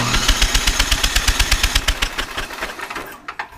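A 23-year-old snowblower engine being cranked over repeatedly, a fast regular chugging pulse of about two dozen loud compression strokes that slows and fades out at the end.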